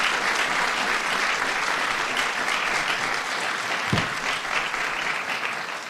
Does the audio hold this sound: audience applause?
yes